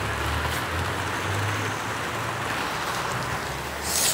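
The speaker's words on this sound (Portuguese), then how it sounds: "Mas azar, a chuva é abençoada." Steady rain pouring down, likely onto a roof with some missing tiles, a dense continuous hiss that fills the whole stretch at an even level with no voices.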